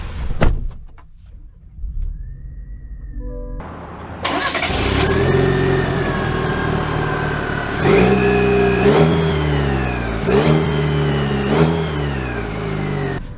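A 2022 Chevy Silverado Trail Boss with the 2.7 engine starts up after a quiet interior lull, then revs and pulls away loudly, its engine note rising and dropping through several gear changes, close and steady with no talk.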